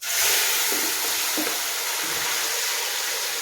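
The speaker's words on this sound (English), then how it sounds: "We're looking for that sizzle sound." A steady, bright sizzle of food frying in a hot pan, continuous and close, with a few soft knocks underneath.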